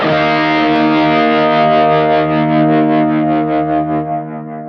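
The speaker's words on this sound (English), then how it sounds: "I've also got the tremolo on a foot switch there." A single sustained electric guitar chord pulses with a steady, rapid volume wobble, the throbbing fading slowly as the note decays.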